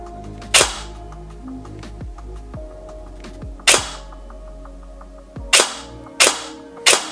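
A G&G SGR556 airsoft AEG with split gearbox fires single shots in a quiet indoor setting, five sharp snapping cracks spaced unevenly with soft mechanical clicks in between.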